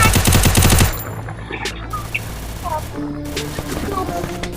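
Rapid automatic gunfire in the mobile shooter Free Fire during a ranked 4v4 match, a loud dense burst of shots that stops abruptly, followed by quieter game sounds and scattered effects.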